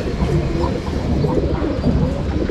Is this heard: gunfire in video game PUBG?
no